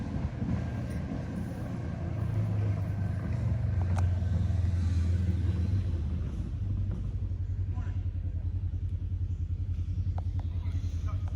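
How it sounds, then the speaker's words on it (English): A go-kart drives up outside, its engine a steady low rumble and drone that swells slightly and then holds, heard indoors through the background with some faint voice-like sound. "I think that was my husband just driving up on his go-kart."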